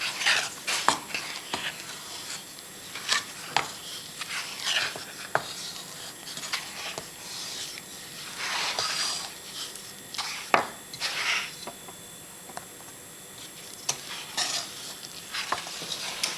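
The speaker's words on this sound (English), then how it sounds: "So you just keep folding the mixture, mixing the flour, or keep folding in the flour until it's all mixed in" A spoon folds flour into chocolate cupcake batter in a bowl, producing soft wet swishes and scrapes with intermittent sharper clinks against the bowl, close and unhurried, with no voice over them.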